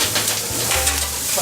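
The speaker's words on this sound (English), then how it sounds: "Carrots. We're just going to sweat those down a little bit in the same pan." Chopped carrots sweat in a pan, giving a steady, close sizzle with faint stirring scrapes throughout and no talking.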